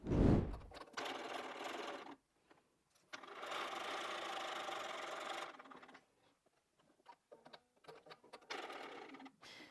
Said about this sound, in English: this time we're actually going to sew on that line